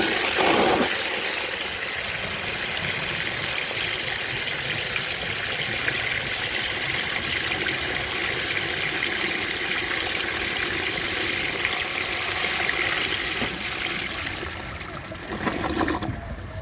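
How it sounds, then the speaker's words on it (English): A 1921 Standard Ejecto toilet with an 18-gallon high tank flushes in a loud, steady rush of water that runs for about fifteen seconds before thinning out and gurgling near the end. "That was a cool flush."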